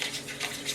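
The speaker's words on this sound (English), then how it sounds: "Whisking! In this house we whisk with the tiny little baby whisk." A tiny little whisk beats yogurt into milk, a quick, light scratchy swishing with soft rhythmic pulses, close and fairly quiet, alone without talk for under a second.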